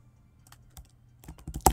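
Quiet, sparse keystrokes on a computer keyboard start out scattered, then come faster and louder toward the end, finishing with a firmer tap like the enter key.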